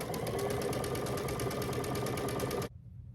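A sewing machine runs steadily while stitching quilt half square triangles, a loud, even mechanical whir for a few seconds that stops abruptly near the end, leaving quiet room tone.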